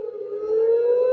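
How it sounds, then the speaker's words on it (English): Civil defense siren wailing across a city, a steady loud rising tone that swells slightly in volume and holds throughout with no voices. "sirens are going off in certain cities"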